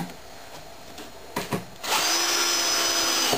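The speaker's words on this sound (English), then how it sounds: "Let's get these screws in while I'm thinking about it." A power drill drives screws into a wooden kids' rocking chair, starting with a couple of short bursts and then running loud and steady with a high whine for over a second.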